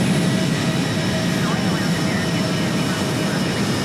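A simulated jet airliner at LAX in Microsoft Flight Simulator 2020 powers up for a go-around, its engines giving a loud, steady roar with a thin whine laid over it.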